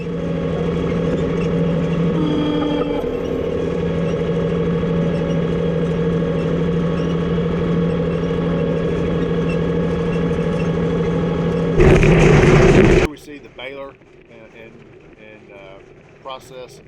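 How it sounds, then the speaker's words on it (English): A tractor pulling a hay rake to form windrows in a hayfield makes a continuous droning engine hum. Near the end it gives a brief louder rush, then drops to quieter mechanical sounds. "this is just the raking process to make windrows"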